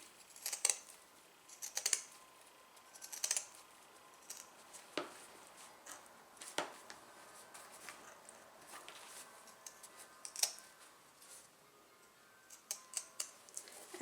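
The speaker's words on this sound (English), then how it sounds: "Sometimes you can't get the pinking shears through all that vinyl." Pinking shears cut through thick vinyl with a series of sharp, close, clipped snips at irregular intervals. Some cuts come in quick clusters and others stand alone against a quiet background.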